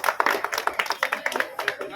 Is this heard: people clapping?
yes